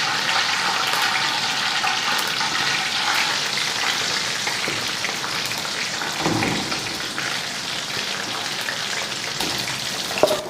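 Chana dal frying in oil and ghee in a pan, a steady dense sizzle like heavy rain that carries on evenly throughout, close and moderately loud, with no voices.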